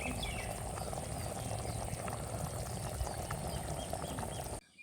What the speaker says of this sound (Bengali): এবার আস্তে আস্তে জাল দিয়ে আটি গুনা সেদ্ধ করে নেবো।